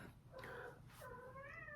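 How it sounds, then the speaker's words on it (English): A cat in heat yowls in drawn-out, wavering cries, two or three rising and falling calls close by over a quiet hissy background. "you hear my cat trying to mate?"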